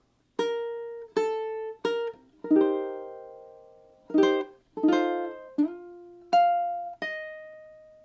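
A ukulele plays a short three-bar phrase of plucked notes and chords, each ringing out in turn with brief gaps, close and clear.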